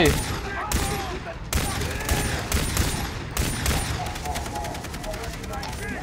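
Dense automatic gunfire in the video game Far Cry 3: loud, continuous bursts and rattling volleys that overlap, with brief sharp breaks and a voice partly buried underneath.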